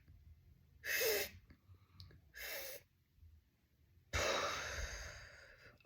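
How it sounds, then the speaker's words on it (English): Three breathy exhalations out through the mouth during a stress-relief breathing exercise. They come in separate, fairly soft puffs, the last one longest, with quiet pauses between and no speech. "breathing through the mouth"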